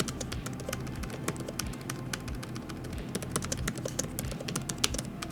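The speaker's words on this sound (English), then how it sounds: "I think for a gaming laptop, the keys are sure quieter than most of them." Typing on the keyboard of an Asus ROG Zephyrus G gaming laptop, with quiet, quick keystrokes clicking steadily and close by, a few louder taps among them.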